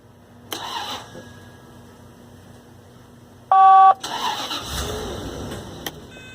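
A beep sounds, then the engine of a 1998 Bentley Brooklands R cranks and catches, settling into a steady idle close by.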